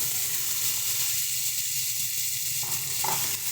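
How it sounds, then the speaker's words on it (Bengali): Spice paste for begun posto sizzles steadily in a pan after a splash of water, a dense continuous hiss with a faint scrape of stirring near the end. "জল দিয়ে মশলাটাকে সুন্দর মতন কষিয়ে দিয়ে দেব"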